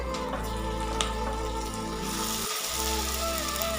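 Tomato, garlic, ginger and green chilies sauté in a pan for Kerala fish curry, making a soft, steady sizzle with light crackles under a constant low hum and faint tonal background.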